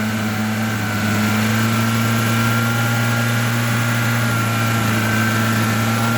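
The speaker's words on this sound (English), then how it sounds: "We're going to run this baby up." A car engine runs steadily at a constant, even hum just after a Sea Foam engine treatment is added, heard alone at moderate volume without any clear rise in revs.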